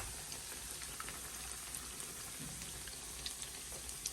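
Buckwheat dough fritters (uštipci) drop into hot oil and fry with a steady, faint sizzle and crackle, a soft continuous hiss speckled with tiny pops, without speech.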